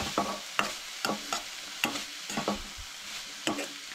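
Mixed vegetables for cutlets are stirred and sautéed in a pan, a quick series of spatula scrapes and taps over a low frying sizzle, fairly close and without talk.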